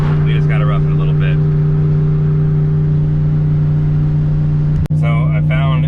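A turbo Yukon's engine drones steadily at 3,700 RPM in second gear at about 57 miles an hour on a drive to Pueblo, Colorado, a constant loud hum inside the cab, with a brief click near the end and faint talk at times.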